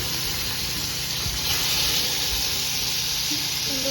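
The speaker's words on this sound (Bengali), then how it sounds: "আমি একটা চিকেনগুলো দিয়ে দিচ্ছি চিকেনগুলো ফ্রাই হয়ে যাবে" Chicken pieces fry in coconut oil and melted butter in a pan, a steady broadband sizzle and hiss running continuously at moderate level with soft low bubbling.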